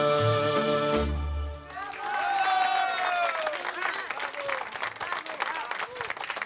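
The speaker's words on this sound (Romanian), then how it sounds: "Sunt aplauze care îi dau curajul de a merge mai departe spre lumea succesului" Studio audience applauding at a Romanian televised party show, a dense burst of clapping that follows the end of a song and continues steadily, with a voice speaking over it.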